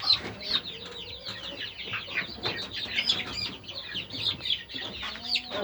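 High-pitched cheeping from many chicks fills the space, a busy continuous chorus with some fluttering and faint rustling close by.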